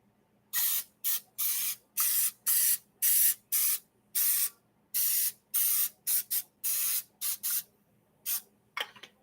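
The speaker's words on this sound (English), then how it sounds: "A little cooking spray." Cooking spray hisses onto muffin pans in a quick series of short bursts, around twenty close, crisp sprays of varying length with brief gaps between them, ending with a last few rapid spurts.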